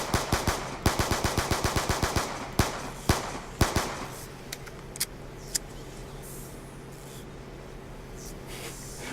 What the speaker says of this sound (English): Okay, so if you shoot it, I'm pretty sure that pisses it off.